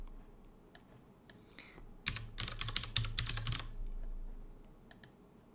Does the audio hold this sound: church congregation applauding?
no